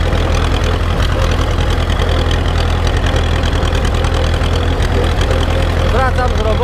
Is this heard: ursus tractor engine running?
yes